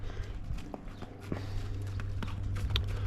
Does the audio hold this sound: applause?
no